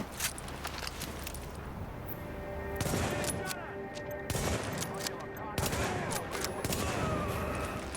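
A light machine gun in The Division fires rapid sustained bursts, dense rattling shots running through the stretch with brief pauses, mixed with other game sounds and a voice talking in the background.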